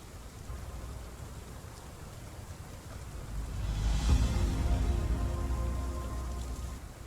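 Rainfall in the Path of Titans game hisses steadily, then a deeper rumbling swell builds midway, like something heavy moving or distant thunder, before easing back under the constant downpour; no voices.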